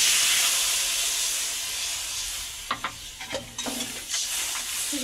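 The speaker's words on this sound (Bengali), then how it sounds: "আর দিয়ে দেবো গরম জল।" Hot water goes into a pan of sizzling thin foli fish curry, a bright steady hiss that fades, then a few splashing bursts and crackles as the water hits the hot spices.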